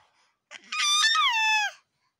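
A single high, warbling whistle from a toy bird, with a pitch that wavers then slides downward, lasting about a second, clear and close with no talking.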